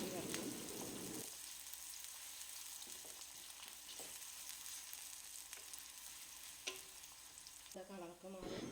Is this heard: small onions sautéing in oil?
yes